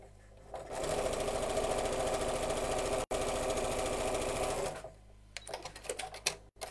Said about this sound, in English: just lining up the edges, find it easier not to pin,